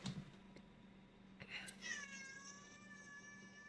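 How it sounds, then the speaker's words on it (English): A house cat gives a rising, drawn-out meow close by, preceded by a low steady hum and a few soft knocks, the call lingering with a clear tonal quality. "that is one of our cats."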